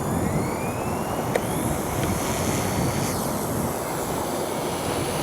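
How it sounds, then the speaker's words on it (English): Strong, cold wind gusts across an outdoor RC flying field where a micro helicopter is flown, making a steady, loud broadband roar and buffeting on the microphone throughout, with no talking. "Now we've got some pretty stout wind here today. And cold wind."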